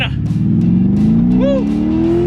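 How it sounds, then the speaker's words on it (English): A car drives past on a road, its engine note slowly rising as it nears, with people talking over it. "We got a car coming."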